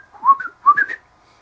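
A person whistles a short two-part phrase, each part rising and falling, clear and close with silence after.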